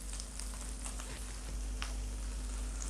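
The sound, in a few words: spices (turmeric, cumin, red chilli) frying and being stirred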